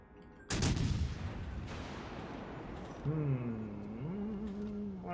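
Heavy naval guns of warships in World of Warships Legends boom with a loud broadband blast, then a long rumbling tail, with a second shot and a droning tonal engine or shell whine later under the battle noise.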